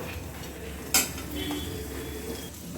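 Makhana lotus seeds roasting in a pan, stirred with a utensil: a steady soft rustle and faint sizzle, with one sharp metallic clink near the start and a brief scrape midway, no talking.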